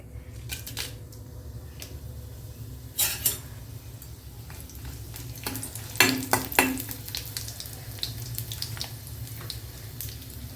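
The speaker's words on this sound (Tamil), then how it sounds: "எண்ணெய் சூடான நான் காஞ்ச மிளகா போட்டுக்கிறேன்" Dried red chillies frying in hot oil for a small-onion chutney, a steady low sizzle with a few sharper crackling bursts and stirring clatters near the pan.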